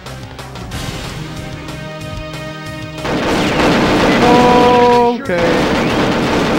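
Gunfire from the Perfect Dark video game, loud and continuous bursts filling the scene, with a brief voice speaking over the shooting.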